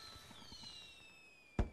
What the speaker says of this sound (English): Screw your poppers. I have fireworks.